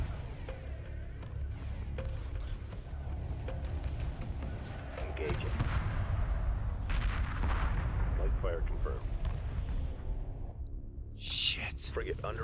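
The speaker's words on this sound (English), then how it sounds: "Drawing heavy fire." Space battle weapons fire from corvettes and frigates in the Homeworld strategy game, a dense continuous barrage of booming blasts and crackling shots under excited voices talking throughout, with a sharp high burst near the end.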